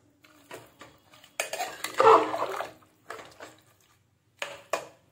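A spoon scrapes and clanks against a pot as chicken is stirred into black pepper gravy, in short irregular bursts of metallic knocks and wet stirring, fairly close, with no talk.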